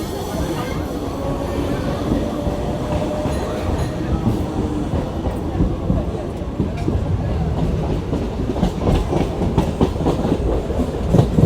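A passenger train runs from Krishnanagar toward Ranaghat, its wheels clattering rhythmically over the rail joints in a steady, loud onboard rumble that continues throughout.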